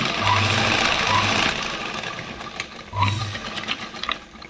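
Sewing machine stitching a sleeve onto a blouse along the fitting edge, with short bursts of motor whir, a pause between them, then handling and rustling of the fabric.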